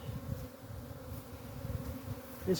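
Honeybees buzzing at an open apiary hive with comb, a steady close insect drone with individual bees passing near, no voices.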